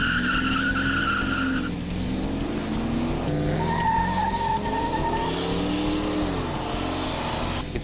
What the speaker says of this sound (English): I did a couple of launches with a little less pressure on the pedal, just to shake it out